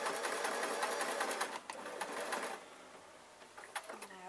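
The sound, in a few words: sewing machine stitching fabric with ballpoint needle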